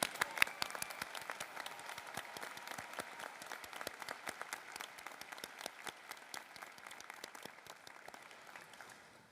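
A graduating veterinary medicine class's commencement audience claps steadily for about nine seconds, a dense field of individual hand claps that holds strong and then thins slightly toward the end.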